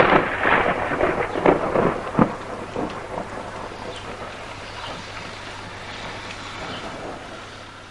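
A thunderstorm rolls through with several loud, close cracks and rumbles of thunder early on, fading into steady rainfall and wind that carries on alone to the end.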